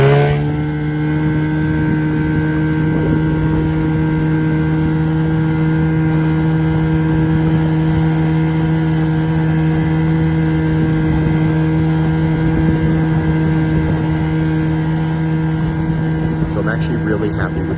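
A Saturn SK470XL Kaboat inflatable powered by a jet outboard motor runs at a constant loud drone with a steady tonal hum and wind or water rush throughout, no speech.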